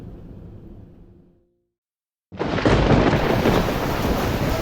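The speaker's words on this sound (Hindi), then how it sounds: "ओले गिर रहे भाई" Hail falls during a thunderstorm: after a faint hiss and a brief silence, a loud, dense, steady roar of pelting ice sets in and continues without a break.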